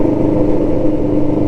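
A Kawasaki ER5 motorcycle with a Black Widow aftermarket exhaust idles with a deep, throaty, steady burble, loud and close, with no talking.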